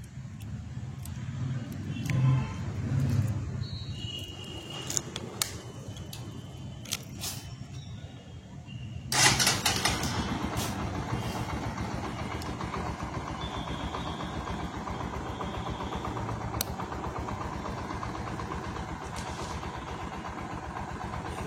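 A Bajaj 110 X motorcycle fitted with an LED headlight is switched on and settles into a steady idle. A click marks the start, then the engine hums evenly and close for the rest of the stretch, with no voices.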